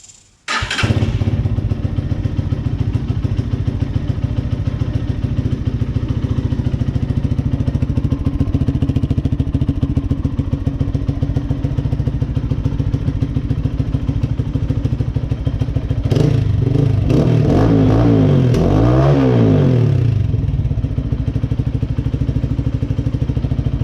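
A Lifan KPM 200 motorcycle fitted with a new aftermarket muffler starts and settles into a loud, steady idle close by, its engine note holding firm with a brief revving swell near the end.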